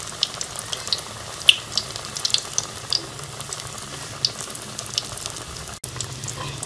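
Chicken nuggets frying in a pan with a close, steady crackling sizzle and scattered sharp pops, moderately loud, with no one talking.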